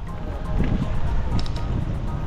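Strong wind buffets the microphone outdoors in Abra, a rough low roar surging and easing over a couple of seconds, close and loud.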